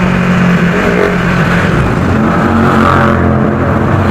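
A motorcycle engine roars steadily and loudly up close, a continuous throaty drone with no break.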